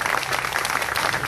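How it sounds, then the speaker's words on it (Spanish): An audience applauding at a tribute event in Luque, a dense, steady wash of many hands clapping, close and loud, with a voice faintly audible beneath the crowd. "más fuerte esos aplausos, por favor, porque se lo merecen."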